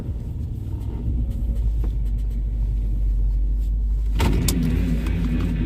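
A car engine rumbles low and steady, then rises into a louder rev near the end, with faint rattles over the deep drone.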